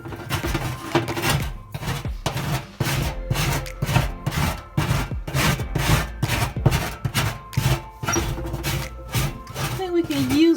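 A stove top being scraped and wiped clean of grime, giving repeated rhythmic rubbing and scraping strokes up close that run steadily throughout.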